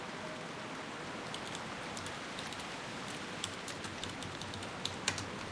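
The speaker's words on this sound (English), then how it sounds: "Typing with one hand is tough." A computer keyboard is typed on with one hand in scattered, uneven clicks and short bursts over a steady background of falling rain, with no talking.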